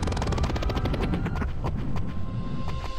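Helicopter in the Payback 2 video game flying, a steady loud rotor chop with pulsing blade rhythm and broadband engine roar throughout, with sharp game sound effects layered over it.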